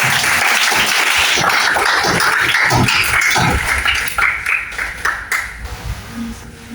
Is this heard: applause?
yes